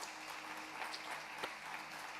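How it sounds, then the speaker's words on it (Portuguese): A church congregation applauding, a steady, faint, distant patter of clapping. "Você pode aplaudir o nome do Senhor Jesus aí um pouquinho?"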